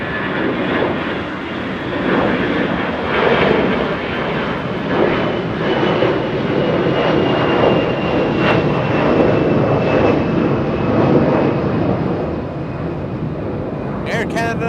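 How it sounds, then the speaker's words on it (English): Air Canada airliner taking off at LAX, a loud sustained jet engine roar close by that holds steady for the whole stretch, with a person talking faintly underneath. "Air Canada getting a move on, lifting off right now."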